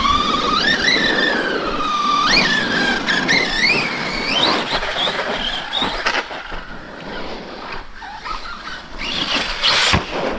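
An Arrma Outcast 4S RC stunt truck drives hard, its electric motor whining loudly and rising and falling in pitch as it revs, with tires squealing and skidding near the end.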